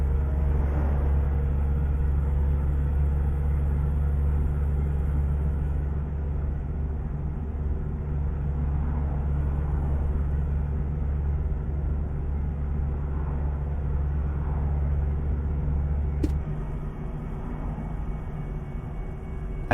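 Truck in the Euro Truck Simulator 2 game cruising along: a steady low engine drone and road rumble with a constant hum and little change, ending in a brief click near the close.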